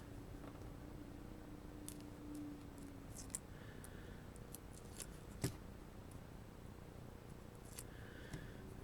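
Scissors make a few faint, quiet snips and ticks as they cut a small piece of tape, with scattered soft clicks over a low background hum.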